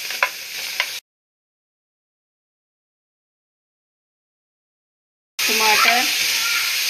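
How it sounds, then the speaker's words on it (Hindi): Onions dropped into hot ghee in a pan give a loud, bright sizzle at the start, then cut out into silence before the frying hiss returns strongly near the end, with stirring and a voice faintly in the background. "ये सबसे पहले हम इसमें प्याज ऐड करेंगे।"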